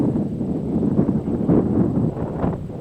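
Steady, loud wind roars and buffets across an open disc golf course at a farm, a continuous low rumble swelling in gusts with no voices.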